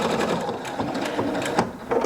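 Husqvarna Viking Brilliance 75Q sewing and quilting machine running an applique stitch, a steady close mechanical whirring and rapid needle clatter with no voices.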